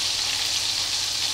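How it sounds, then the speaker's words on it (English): Bacon and leeks frying in a pan while making creamy roasted chicken thighs: a steady, close, fairly loud sizzle with a dense crackling hiss and no voice over it. "we're going to add our bacon and our leeks in"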